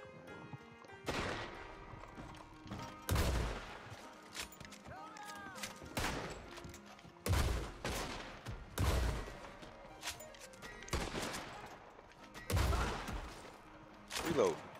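Repeated gunshots in Red Dead Online at the Blackwater Saloon ring out in sharp, loud bursts every second or two, mixed with horse clip-clop and whinnies and some background game noise.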